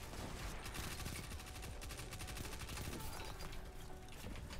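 Rapid, sustained weapon fire from the Dead Messenger grenade launcher in Destiny 2, a dense continuous barrage of shots and blasts at steady loudness, with no pauses and no talking.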